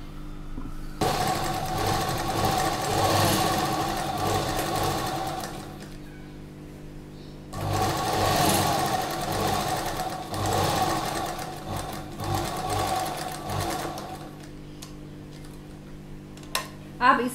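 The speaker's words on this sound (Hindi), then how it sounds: "अब ऐसे ही हम दूसरी तरफ सिलाई लगा देंगे" A sewing machine runs in two long stitching bursts along the seam of a slip, steady and close, with a quiet pause between and brief clicks at the end.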